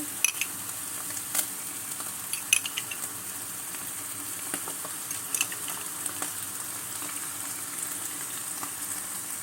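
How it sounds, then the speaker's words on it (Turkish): Tantuni beef frying in a few spoonfuls of oil gives a continuous close, bright sizzle, punctuated by occasional light scrapes and taps of a utensil stirring the pan. "Şimdi biraz yağ ile kavuracağız."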